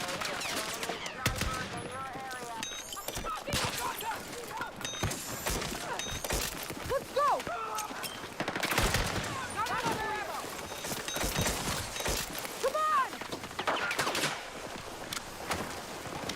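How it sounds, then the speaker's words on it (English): Rapid bursts of gunfire from a shooter video game crackle in dense, repeated volleys over about sixteen seconds, loud and close, with voices talking intermittently beneath the shots. "What the fuck are you shooting at?"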